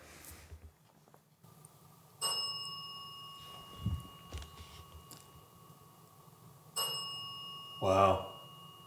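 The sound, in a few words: bell ringing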